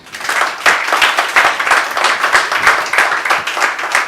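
Church congregation clapping in rhythmic unison to acclaim Jesus, loud, close and steady, with faint voices mixed in.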